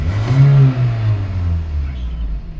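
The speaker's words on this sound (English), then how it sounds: "So let me rev up the engine." Engine of a 2005 Toyota Caldina with a P0191 fuel pressure fault revved while parked, a rising then falling engine note held briefly, close and fairly loud.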